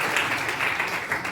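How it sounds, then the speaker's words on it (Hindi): Steady applause from a room of students cheering their teacher, a dense and even wash of many hands clapping at moderate loudness with no speech over it. "सर के लिए एक बार जोरदार तालियां हो जाए गुरु के लिए"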